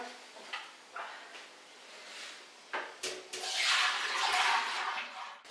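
Soaked lentils and millet drain in a kitchen, with soft knocks and shuffling followed by a steady rush of water pouring and trickling that swells near the end.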